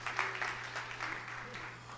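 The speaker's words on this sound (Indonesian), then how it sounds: "tepuk tangan yang meriah untuk kemuliaan Tuhan" Scattered applause from a church congregation during a sermon, light and uneven, with clapping pulses over a steady low hum.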